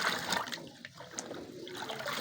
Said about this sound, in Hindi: अब आपको आपने इसको पानी को अच्छी तरह मिक्स कर लेना, तो 5-7 दफ़ा इस तरह मिक्स करेंगे।